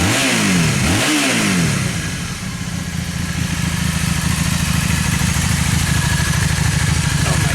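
A 2002 Honda Magna motorcycle with fresh spark plugs and air filter revs up sharply twice, then settles into a loud, fast, steady engine roar close by.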